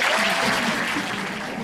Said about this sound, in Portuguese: nós vamos aplaudir o nosso segundo A